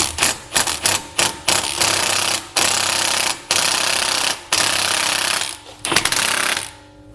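A 10 mm bolt holding a damaged ABS sensor on the front corner of a wrecked 2013 Dodge Dart SXT is spun out with a socket tool, sounding as loud rapid hammering bursts broken by short pauses and then fading at the end.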